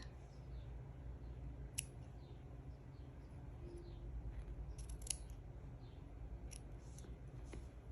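Scissors snip through crochet fringe on a chili-themed crochet hip bag, a few quiet, separate cuts over a low steady room hum.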